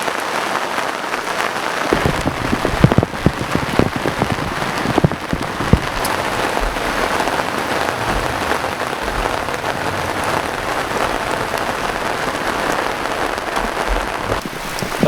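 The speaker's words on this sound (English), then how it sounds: "I don't know if you can hear me over the rain." Steady rain falls at a carp fishing lake, a dense close patter on surfaces that runs continuously throughout, with a few louder drips near the start and no talking.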